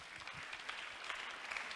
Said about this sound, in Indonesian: Tepuk tangan dulu untuk Pak Koligar.